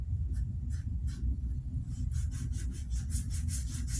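Short strokes of a hand tool chamfering the top corners of a vintage Kelly Perfect Champion wooden build, first a few sparse scrapes, then a quick run of rhythmic rasping strokes, close and fairly quiet.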